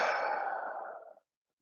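A single long, steady exhale through the nose during a pranayama breathing exercise, close and soft, fading out after about a second.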